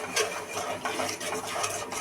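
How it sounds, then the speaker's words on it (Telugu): Turmeric, chilli powder and salt stirred into oil in a kadai, giving continuous scraping and metallic spoon clatter at close range. "ఇప్పుడు ఇందులోనే కొంచెం పసుపు, 1/2 టేబుల్ స్పూన్ కారం, కొంచెం సాల్ట్ వేసి మిక్స్ చేసుకోవాలి"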